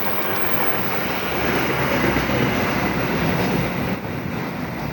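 A KRL commuter train, a JR 205 set, rolls past close by with a steady loud rumble and rush of wheels on track, sustained throughout with no pause.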